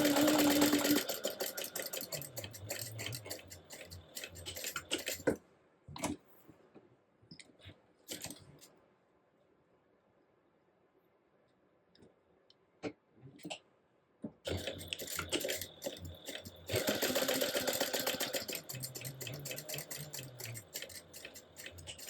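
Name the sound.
sewing machine stitching a crossbody bag seam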